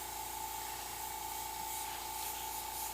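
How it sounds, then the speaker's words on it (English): An airbrush sprays paint lightly onto a model, giving a steady, even hiss of air that holds close and constant throughout, with no talking. "See how light I'm spraying?"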